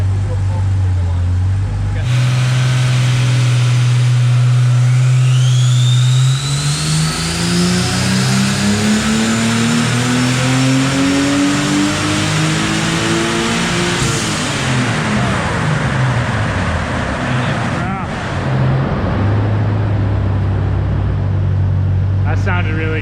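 A turbocharged BMW 635csi sleeper engine revs hard and loud, pitch climbing steadily through a long pull with turbo whistle, then dropping back to a burbling idle, with voices talking around it.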